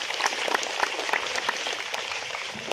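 Audience at a church commemoration event for a priest claps steadily and fairly close, a dense spatter of hands over a couple of seconds.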